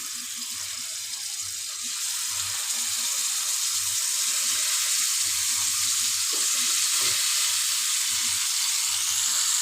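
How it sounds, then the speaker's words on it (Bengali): Pangas fish sizzling as it fries in hot oil, a steady loud hiss with crackling throughout, close up with no talking. "মাছগুলো এখন ভেজে নেব সেম তেলেই।"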